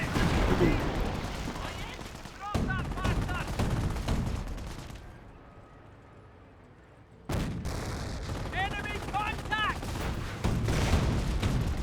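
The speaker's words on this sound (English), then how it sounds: "Got another decoy barrage." A decoy artillery barrage in Company of Heroes, with rumbling booms and crackling gunfire filling the battlefield, a brief lull in the middle, and a voice talking over it.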